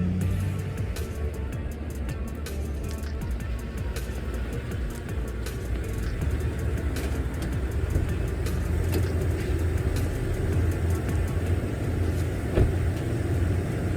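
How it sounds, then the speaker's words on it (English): Toyota Tundra pickup with a newly fitted lift and leveling kit idles and backs out slowly, a steady low engine rumble close by with a faint rise in revs partway through. "Now we're going to back it out of here and see how it does on a first test drive."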